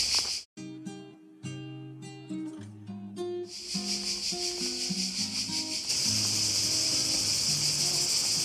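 Loud, dense cicada buzzing fills the air on Lokrum Island, Croatia, in a continuous shrill drone, with intermittent music-like tones starting and stopping beneath it.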